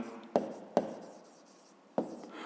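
Pen or pencil strokes scratch across paper while a fifth-grade math solution is written out, a few quiet separate marks with sharp starts and fading scratches.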